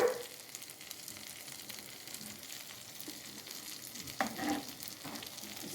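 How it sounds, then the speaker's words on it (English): Potato masala curry with oysters simmering in a pan, a soft continuous bubbling hiss with a couple of brief louder splutters, close and alone without talk. "Let it boil for 5 minutes more. The masala should boil."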